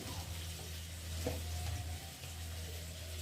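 Pointed gourd (potol) frying in a pan, a steady low sizzle with soft stirring scrapes, close and continuous with no talk.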